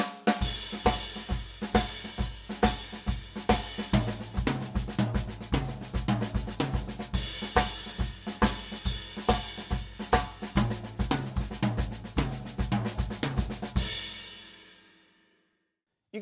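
Acoustic drum kit playing a paradiddle triplet fill moved around the toms in a blues and jazz style, a steady run of dense, close strokes for about fourteen seconds before ringing out into silence.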